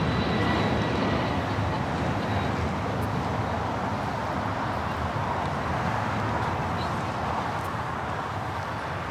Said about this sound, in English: This is Delta Airlines